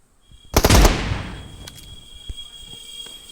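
A shotgun fires in the BGMI battle royale game: one loud close blast with a brief burst of reports, then a fading tail and faint ambient noise.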